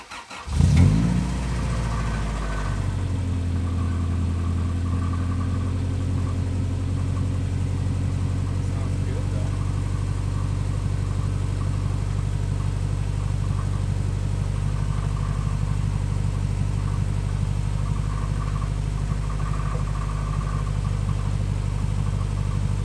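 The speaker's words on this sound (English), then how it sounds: "right now I'm gonna fire it up quick and check for leaks" A Honda Integra fitted with a new muffler cranks and catches, then settles into a steady, loud idle close by with a deep, even exhaust rumble that holds for the rest of the time.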